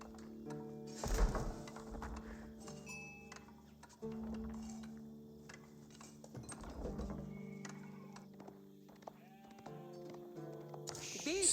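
Sheep bleat in the video game Age of Empires 4, several soft bleats spread out over quiet game ambience with occasional ticking interface sounds.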